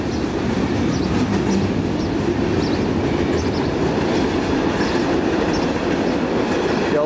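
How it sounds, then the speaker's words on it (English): A train passes on rail tracks with a loud, continuous rumble and steady clatter of wheels that stays strong and even throughout, close by. "That building rumbles when the train comes through."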